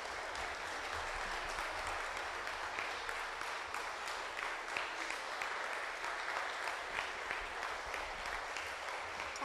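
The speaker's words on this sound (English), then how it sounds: "Let's please give her another round of applause." Sustained audience applause at a national leadership summit following a congresswoman's speech, steady dense clapping from a large crowd throughout, fairly distant and even in level.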